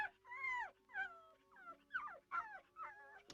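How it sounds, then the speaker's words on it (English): A small dog in a children's puppet show whimpers and yips in a run of high, rising and falling cries, close and fairly loud, with no talking. "Do stop barking, Pom-pom."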